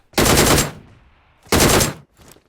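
Two loud bursts of rapid automatic gunfire from a first-person shooter video game, each lasting about half a second with a short quiet gap between them and a faint trailing rattle at the end.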